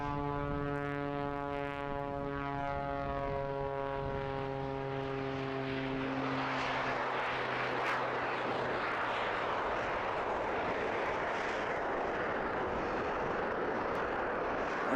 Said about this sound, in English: Coming back into his trademark knife edge pass now.